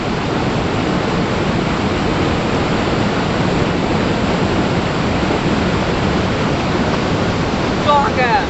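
Fast-flowing water rushing over Athuparai falls near Pollachi, a loud, dense and constant roar close by that fills the whole span, with a faint voice briefly near the end.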